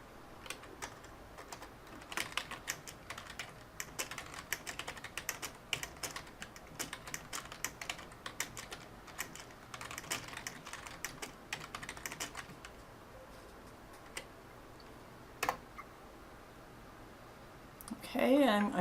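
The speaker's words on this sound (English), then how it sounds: "So the person didn't respond, so I'm going to type them a message." Rapid, light clicks of a computer keyboard as a message is typed in a Zoom meeting, steady bursts of keystrokes at close range that thin out toward the end, with a faint room background.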